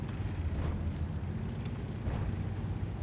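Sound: tank cannon shot in the video game World of Tanks

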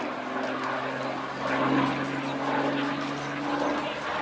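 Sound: 1930s fighter aircraft flying at Old Warden

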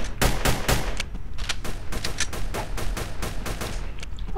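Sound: gunfire in Roblox Apocalypse Rising video game

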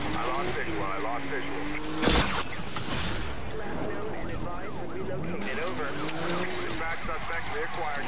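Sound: car turbo boost in the video game NFS Rivals

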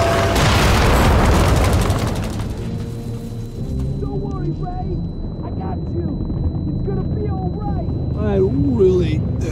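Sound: boats and explosions in a D-Day landing scene

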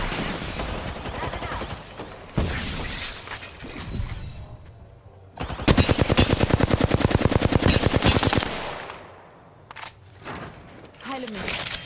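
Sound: gunfire while being shot at in a video game

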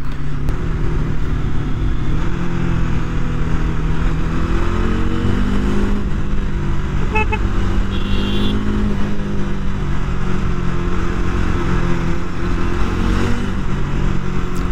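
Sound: motorcycle engine revving at high RPM

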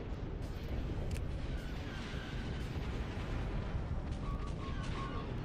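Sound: main cannons firing, Star Wars Empire at War mod video game

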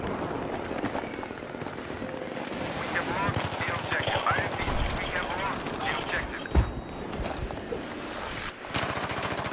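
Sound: gunfire in the video game Battlefield 3

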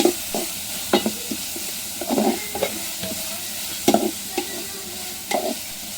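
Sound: stirring frying masala with turmeric in a pan

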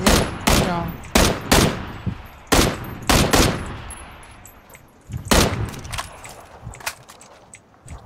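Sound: gunfire in video game PUBG

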